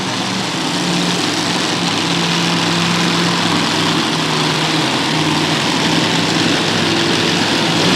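At a county fair pull, a multi-engine pulling tractor with two engines side by side and a third behind them mounted backward roars at steady full power, a loud, dense, unbroken drone heard for the whole stretch.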